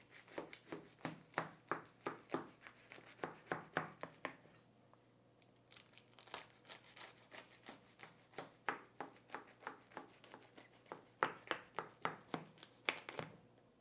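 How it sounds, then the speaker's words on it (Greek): A knife slices a baked Greek cheese pie (tiropita) into pieces with a steady run of crisp taps against the pan, pausing briefly midway before the rhythmic cutting resumes, close and clear with no talk. "Την κόβουμε σε κομμάτια"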